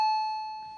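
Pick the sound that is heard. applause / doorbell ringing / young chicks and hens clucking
doorbell ringing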